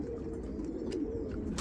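Pigeons cooing softly in a low, continuous murmur, with a few faint higher bird sounds breaking through near the end.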